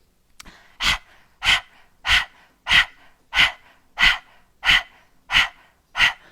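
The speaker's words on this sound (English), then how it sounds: "panting like a dog, you can feel that through the navel" Nine quick, evenly spaced breaths, a person panting rhythmically like a dog, close and fairly loud.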